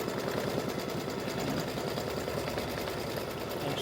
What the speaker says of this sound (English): the next stitch is going to go around and tack down the side panels all the way around.